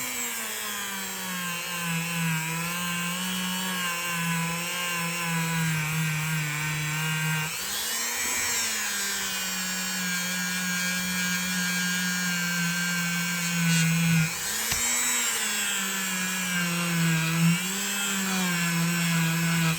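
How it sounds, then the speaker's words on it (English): A belt sander grinding the scarred handle of a vintage RIC-NOR electrician's knife, a steady close motor whine running throughout, with brief dips and pitch shifts as the blade is pressed and lifted. "that would almost require a belt sander"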